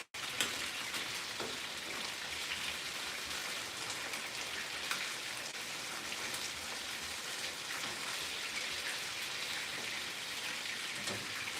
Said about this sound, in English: So let's stir this. Vamos a remover el pollo un poco.